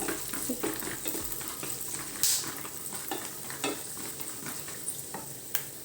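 Cashews fry in a pan with a low sizzle while a spoon stirs them, scraping and clinking at irregular intervals, close by.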